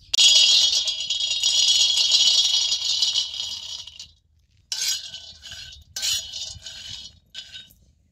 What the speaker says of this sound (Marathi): असं खालवर खालवर करून शेंगदाणे चांगलं भाजून घ्यायचं.